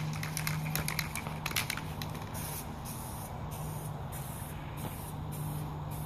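Aerosol spray paint hissing steadily onto a Toyota Celica bumper, a close, continuous spray in even passes with brief pauses between bursts and a low background hum underneath.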